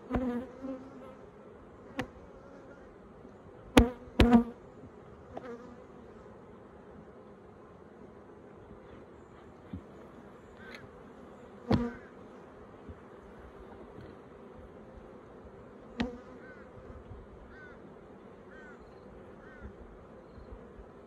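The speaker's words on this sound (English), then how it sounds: "Plenty of bees in there, a lot out foraging today too." Constant low buzzing of many honey bees around a Flow Hive 2, with occasional sharp knocks and clunks close by; no one speaks.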